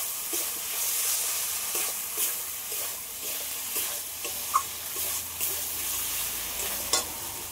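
Fried bhetki fish bones are stirred with spices in a hot pan, a steady close sizzle with soft scraping strokes at a regular pace, no talking.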